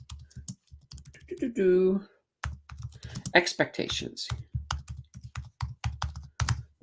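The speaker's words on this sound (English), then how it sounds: "You probably hear a whole bunch of typing going on." Rapid keyboard typing clacks in quick, irregular bursts, close by, with a person speaking briefly in between.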